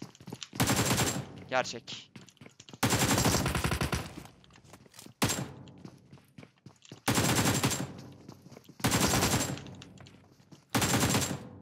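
Bursts of AK rifle fire in the battle game PUBG Mobile, several loud full-auto volleys of about a second each separated by short gaps, with a voice speaking briefly between them.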